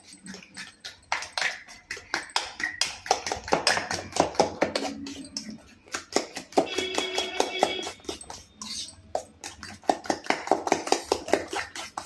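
Eggs being beaten in a bowl for a bread omelet, with rapid rhythmic clinking and tapping of a utensil against the dish, steady and close, and a dog whimpering faintly in the background.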